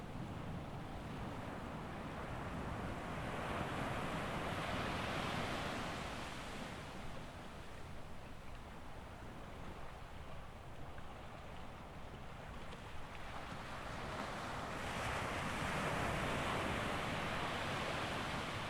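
Long constructive ocean waves breaking on the shore and washing back out to sea, a broad, soft surging hiss that swells and recedes in slow cycles, distant and unaccompanied.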